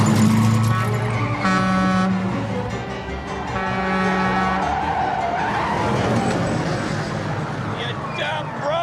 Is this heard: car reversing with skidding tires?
yes